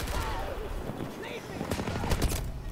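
Video game gunshots from an MP9 session, a few sharp shots cracking near the end amid background noise, with a voice talking over them.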